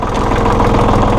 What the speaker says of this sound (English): New Holland 1925 Boomer Series